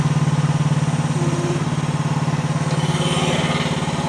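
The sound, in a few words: Chinese mini skid steer engine running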